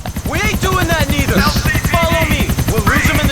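A helicopter in the video game Grand Theft Auto IV gives a loud, rapid, steady rotor chop throughout, heard under excited talking.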